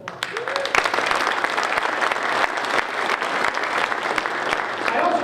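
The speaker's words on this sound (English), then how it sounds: "they deserve a round of applause" Steady, dense applause from a crowd at an American Legion conference, sustained and fairly loud throughout with no breaks.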